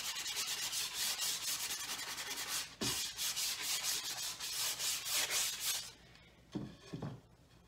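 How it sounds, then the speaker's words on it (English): Steady back-and-forth rubbing of 320 grit sandpaper against the inside of a wooden bent banjo rim from a Carver kit, close and continuous with a short pause partway through. "I'm gonna sand the whole inside"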